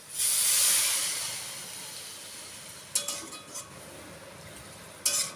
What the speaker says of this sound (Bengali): এইবার একটু জল দিয়ে দেবো, খুব বেশি নয়